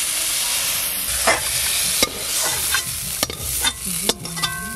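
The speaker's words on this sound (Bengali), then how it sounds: "সব মশলা ভাজা ভাজা হয়ে গেছে," Spices dry-roasting in a pan for a Bengali pulao and paneer meal, a close sizzling hiss broken by sharp scraping stirs and clacks of a spatula against the pan, several strokes over a few seconds, no voices.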